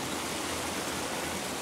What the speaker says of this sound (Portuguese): Então aqui é a cachoeira do Quitite.